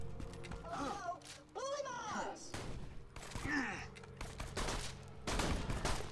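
Shotgun blasts in the video game Borderlands 2, several sharp shots scattered among combat noises and enemy groans and shouts, with talk throughout.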